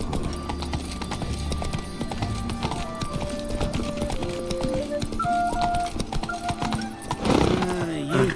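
Roach, the horse in The Witcher 3, runs with a steady clip-clop of hooves throughout, the rhythmic hoofbeats mixed with a musical score and a brief whinny near the end.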